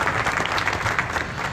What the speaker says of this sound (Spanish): Queremos que se le dé un fuerte aplauso